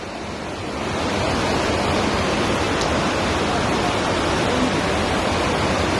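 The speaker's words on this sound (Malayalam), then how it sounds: "ഇതാ സ്കൂളിന്റെ ഇതിൽ കൂടെയാണ് വെള്ളം വരുന്നത്" A steady, loud roar of rushing floodwater fills the whole clip without pause, dense and continuous like a torrent close at hand, flowing past a school in Wayanad.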